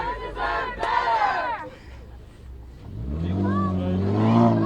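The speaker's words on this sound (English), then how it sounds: "This crowd is significantly smaller than what we saw just over an hour ago at the Chancellor's house." A crowd of student protesters outdoors, voices shouting and chanting in bursts, fairly close, with a lull in the middle before the rumble of the crowd swells again alongside a passing vehicle.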